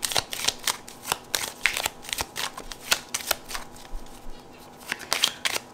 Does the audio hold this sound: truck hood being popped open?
no